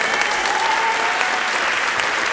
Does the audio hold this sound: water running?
no